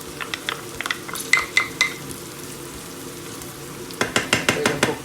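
Onion and garlic for chicken biryani sizzle and crackle in a hot pan, broken by a run of sharp stirring clinks and scrapes, then a fresh burst of sizzling as more is stirred in, close and fairly loud.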